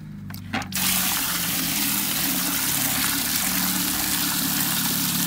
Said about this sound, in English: you can see kind of see the holes trickling there